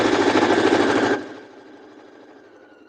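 A sewing machine stitching an embroidered sachet bag whirs loudly and rapidly up close, then stops after about a second, leaving a quiet fading hum.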